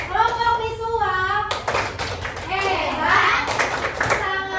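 Schoolchildren in a classroom clap in a group cheer pattern, rhythmic hand claps mixed with children's chanting voices, close and lively.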